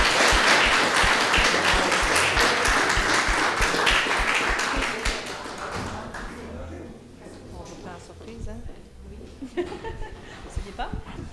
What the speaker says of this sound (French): On l'applaudit pour la remercier.